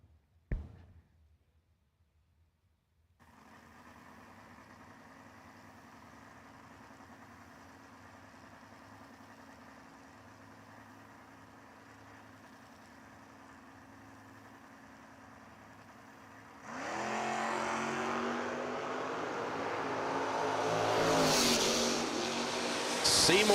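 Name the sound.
drag racing cars, 68 Camaro and Chevy II, idling then launching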